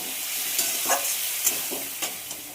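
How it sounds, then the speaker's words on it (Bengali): A spice paste of ginger, garlic, cumin and Kashmiri red chili fries in a pan, giving a soft steady sizzle broken by about five quick scraping strokes of stirring, with no voices. "এবার আমি মশলাগুলোকে খুব ভালো করে কষাবো।"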